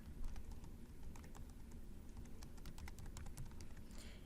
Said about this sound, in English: I can type in whatever I like